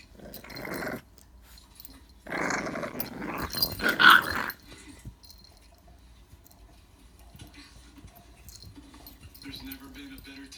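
Puppies growl and scuffle in play, with bursts of rough growling and yips in short clusters, close by and fairly quiet, broken by pauses and light rustling.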